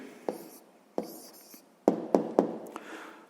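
A pen writing an answer on paper during a sixth-grade maths lesson, a few quick close scratches and taps spaced irregularly, with faint whispery breath between strokes.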